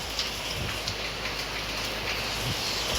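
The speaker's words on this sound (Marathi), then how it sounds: "पाऊस एवढा जोरात आलाय नाही ते कंटिन्यू पाऊस आहे" Heavy, steady rain pours down continuously, a dense broadband hiss with scattered drops pattering on surfaces nearby.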